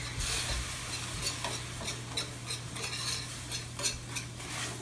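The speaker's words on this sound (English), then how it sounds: "So I'm going to use a whisk and slowly add this in. and whisk it up" A whisk stirring water into pot pie filling in a pot: quiet, rapid metallic scraping and tapping over a steady low hum, close and without talk.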